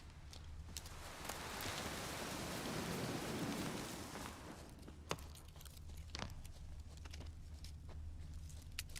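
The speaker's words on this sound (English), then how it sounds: "No use doing any work in this rain." Steady rain pours across an open area in Witcher 3, a dense wash that swells in the first seconds, then settles as scattered sharp drops and low thunder rumble through the downpour.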